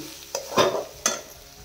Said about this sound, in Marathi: मिक्सच करत राहायचं कुठपर्यंत, जोपर्यंत आपलं बेसन सुट्ट मोकळं होत नाही तोपर्यंत असं मिक्स करत राहायचं